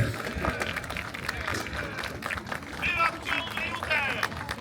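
A crowd applauds a historical reenactment regiment at an outdoor military pageant at Niepołomice, with a patter of clapping and murmuring voices and a loudspeaker voice rising over it.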